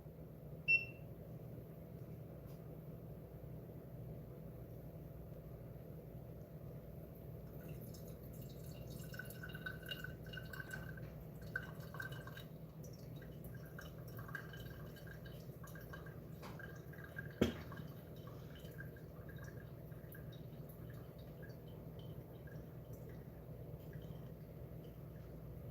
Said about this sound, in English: Start our timer, and we're pouring pretty much 5 60-gram segments.